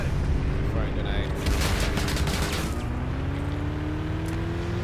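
Gunfire in the Planetside 2 video game, several bursts of shots crackling over a steady rumble of vehicle engine and battle noise, with voices on comms in the background.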